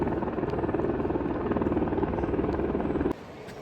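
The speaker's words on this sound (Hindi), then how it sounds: "नीचे जो सेटलमेंट देख रहे हैं आप, उधर हेलीकॉप्टर एक मेरे ख्याल सामान का कोई पैकेज है, वो उठा के लेके जाएगा" Helicopter flying over a Himalayan settlement to lift away a package, its rotor chop a steady, loud throbbing that cuts off abruptly near the end.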